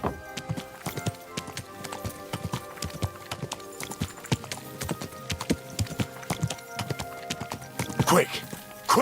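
Horse hooves in the medieval role-playing game Kingdom Come Deliverance II clip-clop in a steady, close rhythm throughout, with a brief whinny-like burst near the end and a voice speaking over them.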